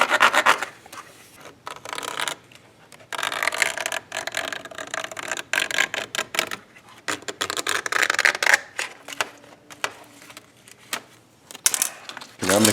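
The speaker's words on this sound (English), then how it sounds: "So I'm going to scribe onto here where we need to cut." A metal shifter plate being scribed with a cut line for a Megashifter install in a third-generation Firebird, giving close scratchy rasping strokes in short bursts with pauses between them.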